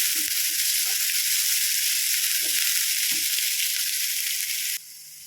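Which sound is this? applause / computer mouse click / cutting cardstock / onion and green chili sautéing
onion and green chili sautéing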